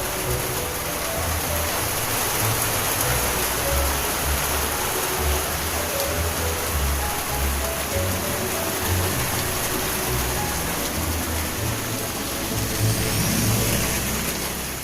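Steady rain pours down evenly for the whole stretch, a dense hiss of drops on surfaces with a low rumble underneath and no voices.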